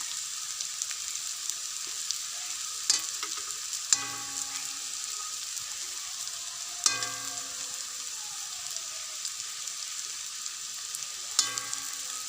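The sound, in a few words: pakoras deep-frying on low heat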